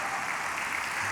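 Church congregation applauding during a sermon, a brief dense wash of clapping heard at a steady level from a distance.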